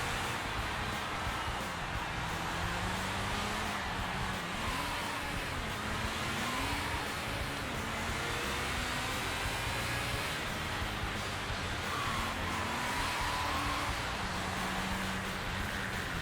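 A car engine in Sega GT strains toward redline in fourth gear, a steady, loud, droning whine with a pitch that slowly wavers and climbs over a constant rushing background.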